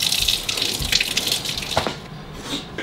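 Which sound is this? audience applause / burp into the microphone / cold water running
cold water running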